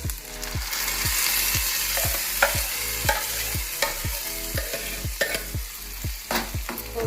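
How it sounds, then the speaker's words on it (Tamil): Onions frying to golden in a hot pan for tomato chutney, with a regular series of scraping stirs from a spoon or spatula against the pan, close and busy. "ரொம்ப கருகு வறுக்கணும் இல்லை கோல்டன் கலரில் வந்தால் போதும்"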